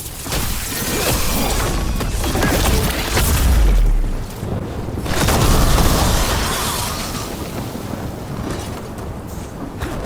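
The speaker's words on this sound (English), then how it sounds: "Exploding Darkspawn? What is this?" Darkspawn explode in Dragon Age: The Veilguard, giving deep, loud booms with crashing, whooshing debris that rise and fall in two heavy surges over a dense rumbling battle bed, no voices.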